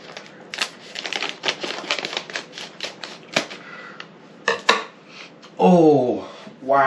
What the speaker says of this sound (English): this packet's not easy to open, so I'm going to get a pair of scissors